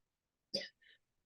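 A person with hay fever lets out one sharp, close sneeze followed by a softer breathy catch, isolated against silence during an interview.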